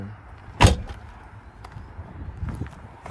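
A Corvette C4 5.7 V8 coupe's door opens with one loud, sharp latch clunk near the start, followed by faint rustling and a few soft knocks at close range.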